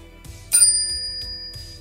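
A bright notification bell chime rings out once with a sharp strike and a sustained shimmering ring that slowly fades, standing alone without any talk.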